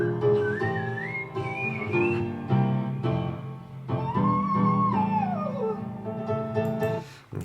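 A singer sings whistle-register notes in a song, a series of piercing, flute-like high tones that glide and bend, sustained over a fuller vocal backing across several phrases.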